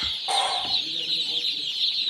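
Broiler chicks in a tray in a poultry shed cluck and chirp steadily over a constant high-pitched background din, with a few louder calls close by; no talking.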